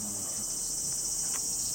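Cicadas sing in a Japanese garden at the Lafcadio Hearn memorial residence, a steady high-pitched continuous drone filling the air without pause, loud and enveloping.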